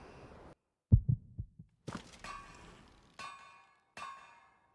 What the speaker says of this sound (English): Keep hearing the heartbeat.